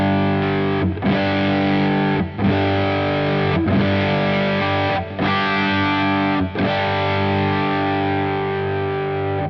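Ibanez JS1200 electric guitar with distortion, all pickups on, strummed as loud sustained chords in about five bursts separated by brief pauses, with no talking.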